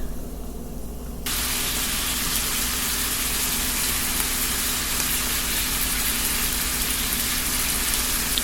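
Garlic shrimp sizzling in a pan for shrimp pasta, a steady, dense hiss that starts suddenly after a quieter first second and then holds at an even, fairly loud level.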